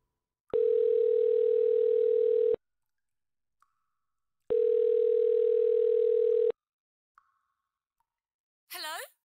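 Telephone dial tone in the video game Calm Waters, two long steady tones separated by silence, with a few faint clicks and a brief higher electronic sound at the end.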